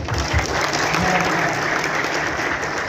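A room of party election witnesses at a training session in Kupang breaks into steady applause, thick overlapping clapping sustained evenly for about three seconds.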